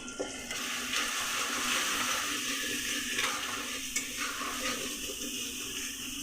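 Kashmiri chili powder with coriander and cumin powder being stirred in a hot pan, a steady close sizzle with scraping strokes throughout and no talking.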